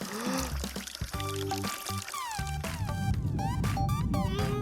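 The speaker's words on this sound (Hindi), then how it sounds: "हम पानी भरते हैं।" Water poured into a bottle during a mermaid colour challenge, a steady pouring rush with rising tonal gurgle, heard under bright music and sound effects.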